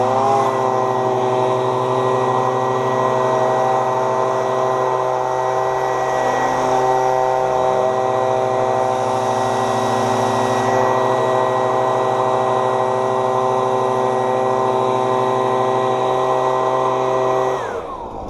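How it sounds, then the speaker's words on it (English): A small gas-powered backpack leaf blower runs at a constant high, droning whine, loud and close, holding steady for the whole stretch before cutting back at the very end. "even with this little gas blower, I'm probably getting more power than I will with the electric one"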